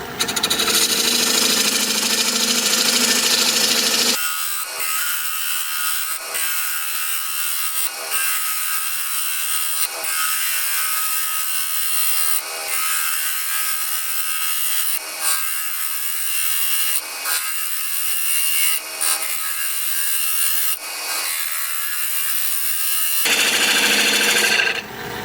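A turning tool cuts into hard wood spinning on a lathe, producing a loud, steady rasping scrape with a brief pulse roughly every two seconds as the tool is pressed firmly against the workpiece, and no voices.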